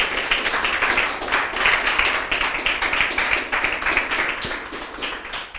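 A church congregation claps together in steady, dense applause that fills the room, with no voices standing out.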